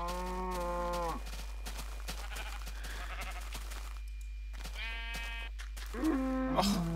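A synthetic cow moo from Minecraft sounds twice, once at the start and again near the end, with a quieter busy stretch of sounds between them.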